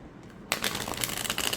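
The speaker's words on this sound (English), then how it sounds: "we can see how this deck shuffles." A new tarot deck being shuffled on a mat, silent for half a second and then a steady, close rustle and flutter of cards riffling together with no voices.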